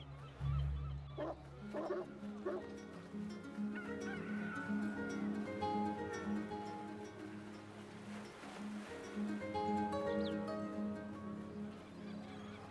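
Poultry in the Neverwinter Nights video game, a busy cluster of clucks and honking fowl calls over a steady ambient game background, no talk.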